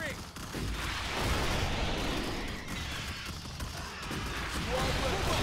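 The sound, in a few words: gunfire from squad firing in video game Starship Troopers: Terran Command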